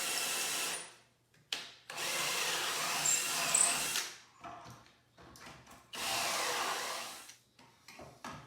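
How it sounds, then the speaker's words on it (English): A power drill bores pocket holes into lumber clamped in a pocket-hole jig, close by and loud, in several long whining runs separated by short pauses. "clamp the jig on the board, and start drilling"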